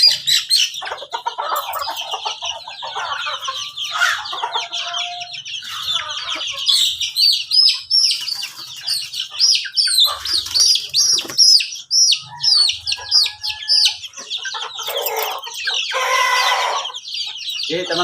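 Filipino chickens, kept as free-range village fowl, cluck and call in a dense, busy chorus near at hand, with bright chirps and a few louder squawks running throughout.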